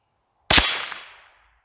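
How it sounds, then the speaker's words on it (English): A single sharp crack from a rifle firing Fiocchi high velocity rimfire ammunition, close and loud after a moment of quiet, with a quickly fading echo. "finish up by running some high velocity ammunition through the rifle"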